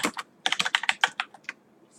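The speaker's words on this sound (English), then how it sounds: "and of course I can type stuff" Typing on a computer keyboard in a word processor: a quick burst of about a dozen crisp key clicks, close and fairly loud, in an uneven rhythm with short gaps and no voices.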